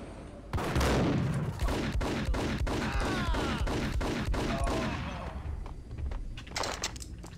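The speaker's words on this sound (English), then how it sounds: "And a lot of enemies. And a shotgun." Rapid volley of loud shotgun blasts in the Max Payne video game, sharp repeated bangs at a steady fast rhythm for several seconds over dense game noise, easing off toward the end.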